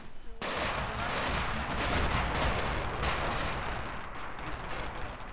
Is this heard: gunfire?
yes